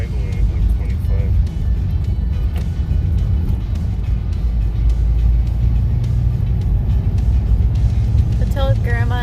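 Low, steady engine rumble from a 1986 Ford Mustang LX Foxbody idling, heard from inside the car with a constant deep drone while people talk over it.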